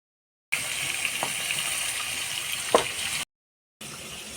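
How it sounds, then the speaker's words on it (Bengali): Sole fish dropped into hot oil sizzles with a bright, steady crackling hiss, briefly interrupted, then resumes, with a couple of soft clinks and no talking. "তেলটা গরম হয়েছে, মাছটা আমি ভাজি নেব।"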